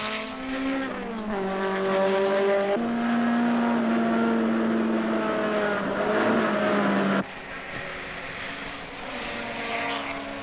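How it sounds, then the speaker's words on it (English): A 1971 BRE Datsun 510 race car engine screams around a track, pitch sliding up and down through gear shifts, loud and sustained, with a sudden drop near the end. "Being able to listen to the car all the way around the track and hear John shifts precisely"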